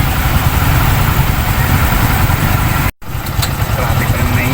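Heavy traffic on a bridge in Binmaley, Pangasinan: idling car and motorcycle engines drone loudly and steadily up close, with a brief dropout near the middle, under faint background voices.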